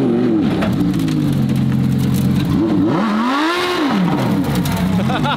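A race-gas car's engine revs hard under throttle on a closed private lot, loud and near, its pitch sweeping up and down through several throttle blips and dips.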